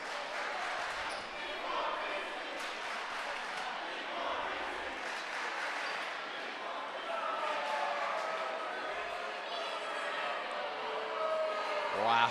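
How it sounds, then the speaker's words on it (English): A home basketball crowd in a high school gym chants steadily late in the fourth quarter, a dense, sustained roar of many voices filling the hall without a break. "the crowd chanted, "We want Reesing,""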